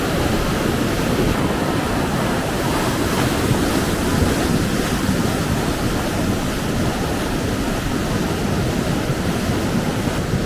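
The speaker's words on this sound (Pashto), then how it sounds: "ډېرې خطرناکې اوبه را روانې دي" Dangerous flash-flood water rushing down a stream at Band-e Qargha in Kabul, Afghanistan, after heavy rain; a steady, loud, broadband roar of churning water with wind buffeting the microphone, continuous throughout.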